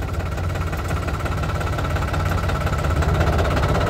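A New Holland 3600-2 tractor engine runs steadily in reverse gear, a loud, close diesel rumble with constant low vibration and a slight rise in level toward the end, with no talking.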